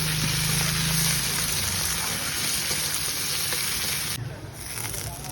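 Potatoes, dried chilli, bay leaf and cumin sizzling in hot oil at the start of a rohu fish curry, a loud continuous close sizzle and crackle throughout.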